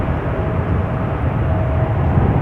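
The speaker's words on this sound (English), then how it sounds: "We're now looking at the climb of KLM flight 879, a Boeing 777-200 that is going to Bangalore." A KLM Boeing 777-200 climbing after takeoff from Schiphol's Polderbaan runway in Amsterdam gives a loud, continuous low jet-engine rumble with a dense roaring wash.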